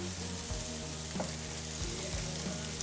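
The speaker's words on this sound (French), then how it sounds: "Ok, donc on met toutes ces petites boulettes dans la poêle." Meatballs fry in olive oil in a pan, giving a steady, loud, close sizzle with a few soft bumps as they are moved around. No one speaks.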